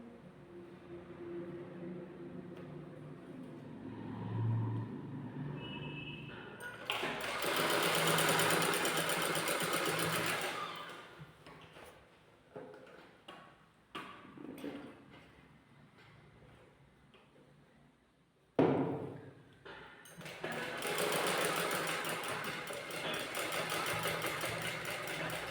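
A sewing machine stitches a net fabric blouse in two long, steady runs of rapid mechanical whirring. A shorter burst falls between the runs, and faint handling noises fill the quieter gaps.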